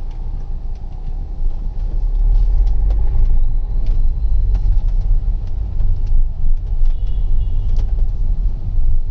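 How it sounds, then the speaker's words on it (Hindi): A Tata Altroz hatchback sits with its engine running on a bridge slope, giving a steady low idling rumble close by, with faint traffic noise passing in the background. "तो यहाँ पे ब्रिज के स्लोप पे मैं कार अभी चालू रखी है"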